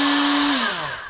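A Roloc bristle disc spins up on a power tool, ready to clean the surface of a 1960 John Deere 1010 backhoe engine block. The whine is loud and steady, then drops in pitch as the tool winds down.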